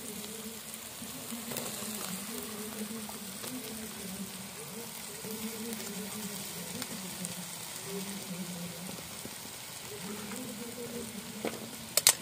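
Tender young jackfruit sautés in a pan for a Malvani-style vegetable dish, giving a soft, steady, low-level sizzle with a faint hum underneath and a couple of sharp clinks right at the end.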